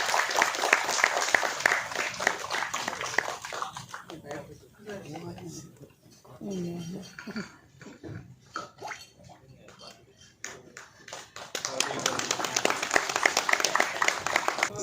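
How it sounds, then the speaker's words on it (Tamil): An audience claps to welcome a guest onto the stage at a Tamil film audio launch. Broad applause fills the opening seconds, a voice speaks over quieter clapping in the middle, and the applause swells again near the end. "அப்புக்குட்டி அண்ணாவை கைத்தட்டி எல்லாரும் ஸ்டேஜுக்கு வெல்கம் பண்ணிடலாம்"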